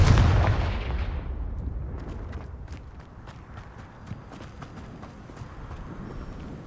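A Confringo blasting spell bursts loudly in Hogwarts Legacy, with a heavy boom at the start that rolls off into a long, rumbling decay and scattered crackles.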